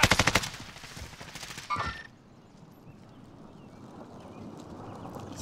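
Gunfire from the video game Warzone: a rapid automatic burst of shots in the first two seconds, loud and close, followed by a quieter stretch of low ambient game noise.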